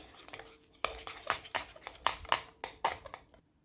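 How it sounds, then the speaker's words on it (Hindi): A spoon clinks repeatedly against a bowl while egg, green chilies and other ingredients are mixed, giving a steady series of sharp, close taps that stop near the end. "इन तमाम चीज़ों को अच्छे से मिक्स कर लेते हैं"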